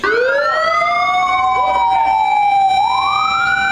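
Wailing sirens rise and fall continuously, loud and close, several tones overlapping with a low rumble of traffic beneath, amid a protest with burning tyres and angry shouts.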